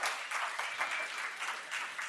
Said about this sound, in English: Let's give a round of applause to our first four startups.